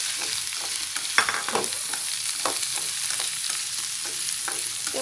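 Mushrooms stir-fried with tomato and fried shallots in a pan over medium heat, a steady close sizzle broken by scattered scraping clinks of a utensil stirring, with no voices.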